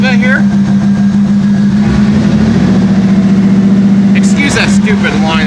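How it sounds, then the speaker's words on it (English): LS1 truck V8 engine revving: a loud, steady droning engine hum with rising and falling pitch swells, close up, with a voice talking over it. "just to prove it, I'll rev it a little bit here."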